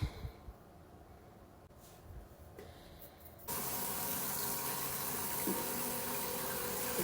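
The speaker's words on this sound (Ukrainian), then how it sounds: "Спочатку наповнюється водичка, потім е, до певного рівня води." Running water fills a washing machine drum up to a set level, starting as faint trickling before a sudden loud, steady rush of inflow that continues to the end.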